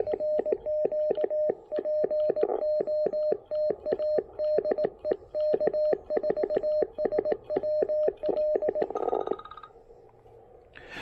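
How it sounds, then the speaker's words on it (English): An incoming call rings as a fast, repeated electronic tone pattern, loud and steady for about nine seconds before it breaks into noise and fades. "I gotta take this phone call"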